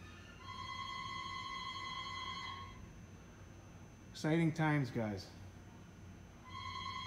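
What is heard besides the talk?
telephone ringing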